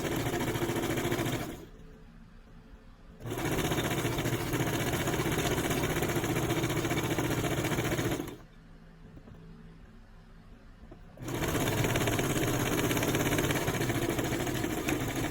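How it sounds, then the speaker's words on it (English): Brother sewing machine stitching a straight seam on a beanie, running in two long steady bursts with a short quiet pause between them, close and even. "Definitely do your back stitch and just sew straight down."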